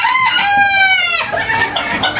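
Chickens on a farm cluck and squawk loudly and excitedly over beetle feed, with one bird's rising drawn-out call standing out close up above the flock's agitated chatter.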